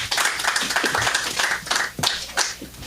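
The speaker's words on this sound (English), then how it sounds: "Clap it up, clap it up." An audience claps along at an energetic college event, a dense run of hand claps with stronger bursts near the end, steady and fairly close throughout.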